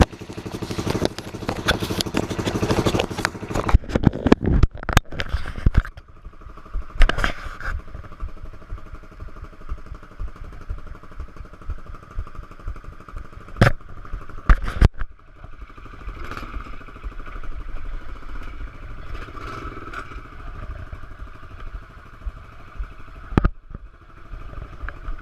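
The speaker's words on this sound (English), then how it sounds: "Shouldn't be stuttering, it's a good bike." A pit bike engine runs roughly and stutters, with uneven revving, sputters and clattering bursts, loud and close throughout.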